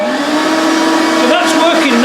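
Sandblasting cabinet switched on, with a steady, loud whooshing roar of air being drawn through and a faint rising tonal whine near the end.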